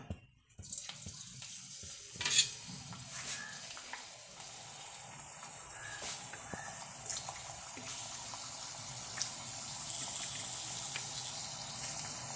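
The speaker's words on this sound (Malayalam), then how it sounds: "എണ്ണ ചൂടാവട്ടെ ടേസ്റ്റ്ഫുള്ളായിട്ടുള്ളത് നമുക്കൊന്ന് ഇട്ട് നോക്കാം" Taro chips fry in a pan of hot oil with a steady, close hissing sizzle that slowly builds and thickens, broken by a few small crackles and clinks, with no voices.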